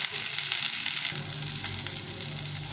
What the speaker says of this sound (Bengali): ভালো করে একটু ভেজে নিতে হবে এই পেঁয়াজের সঙ্গে ফুলকপিটা ভাজাটা হবে